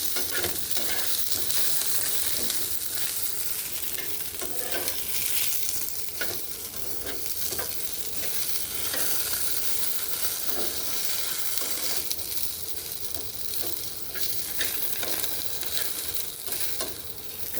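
Taro, potato and eggplant fry in a pan for a village-style mustard-poppy seed curry, a continuous close sizzle broken by repeated stirring scrapes.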